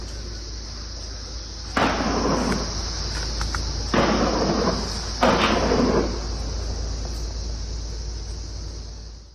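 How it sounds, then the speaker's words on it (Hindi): Gunfire during a cordon search operation in the Kokernag area of Anantnag, Jammu and Kashmir: three distant, reverberating bursts echo over a constant high-pitched hiss and low hum. "उस लोकेशन की जहां पर फायरिंग की आवाज भी सुनाई दे रही है"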